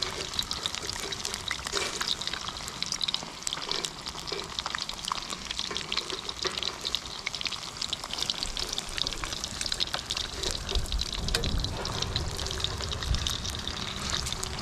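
Kelp greenling fish sizzles and crackles steadily in a pan over an open fire, a dense continuous frying hiss with popping spatter throughout, close and fairly loud, with no voices.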